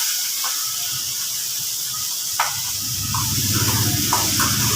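Tomatoes hit hot oil with frying onions, a continuous close hiss and sizzle that thickens into bubbling crackle partway through, with a few faint clinks.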